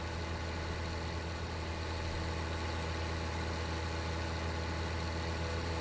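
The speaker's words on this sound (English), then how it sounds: "I am trying to start the engine. There we go." A T8 tractor in Farming Simulator 19 idles with a steady, low diesel drone and even mechanical rumble that holds constant throughout, without a clear start-up.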